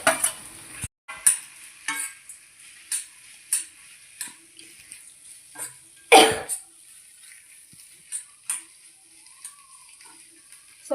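Fried potato and egg mixed together in a pan, a spatula tapping and scraping at scattered intervals, with one heavier clatter midway and quiet pauses between strokes.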